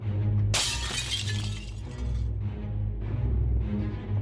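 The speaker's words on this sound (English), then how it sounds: "Strike the mirror with a quick, effective jab. The glass shatters with a crash." Glass mirror struck and shattering in the video game Shadowgate: one loud, sudden crash of breaking glass, followed by a low steady game tone and a few softer rumbling swells.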